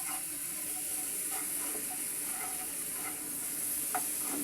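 Onion paste hits a hot pan for a fish and ridge gourd curry, giving a steady close sizzling hiss with soft stirring scrapes and small pops throughout, no voices.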